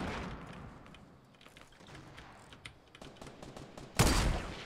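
Gunfire in the Fortnite Battle Royale video game: scattered light shots crackle in the background, then a single loud, sharp sniper-like blast lands near the end.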